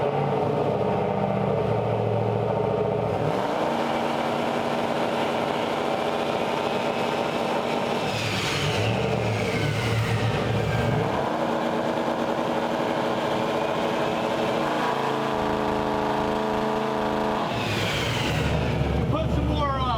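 A built turbocharged Chevrolet S10 engine roars loudly on a dyno, revving up and falling back repeatedly with rising and sweeping engine tones, while someone talks over the noise.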